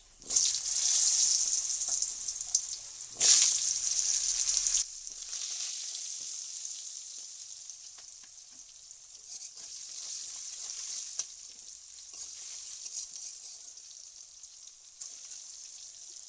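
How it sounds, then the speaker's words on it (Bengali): Potatoes dropped into hot oil in a kadai with a bay leaf and whole spices burst into a loud sizzle, which settles within seconds into a quieter, steadier fry. "দিয়ে আলুগুলো দিয়ে দিতে হবে কড়াইয়ের মধ্যে।"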